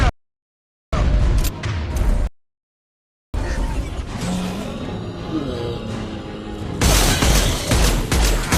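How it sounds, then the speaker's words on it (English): Heavy gunfire erupts in Mass Effect 2 with dense bursts and booms, cutting out twice into silence before a sustained, loud barrage of shots and explosions continues to the end. "Taking heavy fire!"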